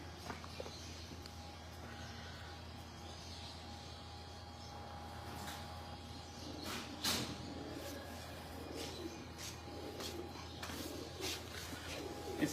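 Pigeons on a rooftop loft in Lahore give soft, low coos over a constant faint hum, with scattered light taps and rustles nearby and no clear talk.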